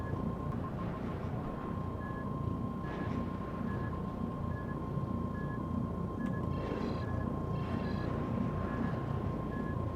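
Star Citizen 300i spaceship landing: a steady engine hum and rumble with a sustained tonal whine, regular beeping alert tones, and brief bursts of thruster hiss midway.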